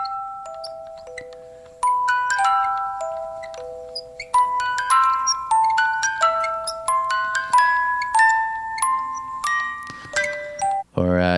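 A faint, tinkling music-box melody plays alone, its plucked metal notes stepping up and down in a steady, delicate rhythm heard through an apartment wall, ending with a brief louder knock.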